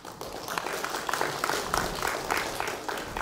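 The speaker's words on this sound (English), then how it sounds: "你还鼓掌呢。" Audience at a Buddhist sutra teaching session claps in a steady, moderately loud patter of many hands that carries on for a few seconds without a break.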